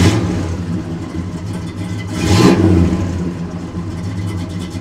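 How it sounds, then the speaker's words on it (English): A 1969 Dodge Super Bee engine idles with a low, even rumble, swells briefly, then drops to near quiet as the idle stop solenoid cuts it off. "But then I go to shut the car off and the solenoid will actually kill."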